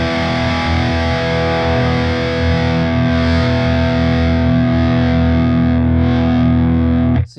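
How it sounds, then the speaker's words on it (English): Electric guitar pushed through an overdriven tube amplifier with shifting EQ, producing a thick, heavily distorted sustained chord that rings loud and steady for about seven seconds before cutting off abruptly. "you almost hear how the EQ is actually affecting how much gain is coming out of the amplifier"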